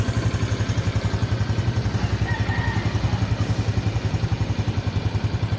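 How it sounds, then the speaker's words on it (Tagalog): A Honda RS 125 motorcycle engine runs steadily up close with a fast, even pulsing beat and a faint metallic rattle mixed into its idle-like drone, with no voices. "Pero pag tumakbo na ng malayo, may kakaiba siyang tunog"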